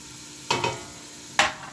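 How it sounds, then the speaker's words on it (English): Onion hits hot olive oil in a pan: two sharp sizzling bursts, the second louder, over a faint background hiss, with no voice. "My olive oil is ready, so I'm going to do is I'm going to add my onion in here."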